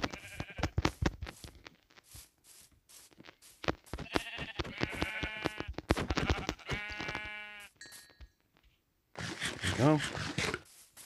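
Sheep in the Minecraft video game let out a series of short, wavering bleats while a sheep is being killed, mixed with speech and other game sounds, and a longer bleat rises near the end.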